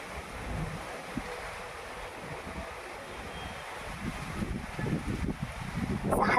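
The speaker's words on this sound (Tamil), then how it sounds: "நல்லா காற்றோட மழை இருக்குது." Wind gusts and rain sweep outdoors with a constant broadband rush and buffeting against the microphone, swelling louder toward the end.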